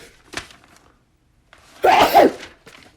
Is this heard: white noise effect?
no